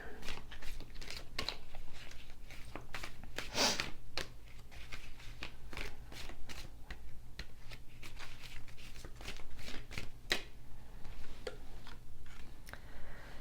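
Tarot cards being handled and shuffled up close, a dense stream of crisp riffling flicks and papery slaps with a steady low background hum.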